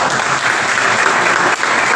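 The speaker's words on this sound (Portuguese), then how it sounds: "Você pode aplaudir ao Senhor nessa" Congregation applauding during a church service: dense, steady clapping from a crowd, loud and close, filling the whole moment without pause.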